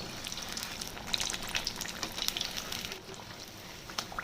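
Bajji fritters frying in hot oil, a dense, continuous crackling sizzle with bursts of sharper pops, close and fairly quiet with no voices.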